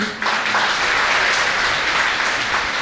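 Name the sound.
audience applause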